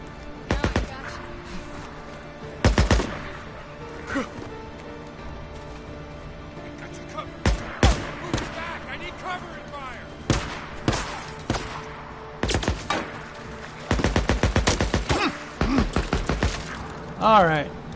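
Bursts of gunfire and shotgun blasts in the video game Days Gone, loud sharp volleys coming in clusters across the stretch with short pauses between, with shouted voices in between.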